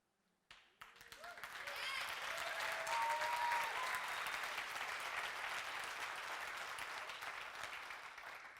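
Large audience applause at a motivational talk, starting abruptly after a moment of quiet and swelling into a dense, sustained roar of clapping with faint voices underneath.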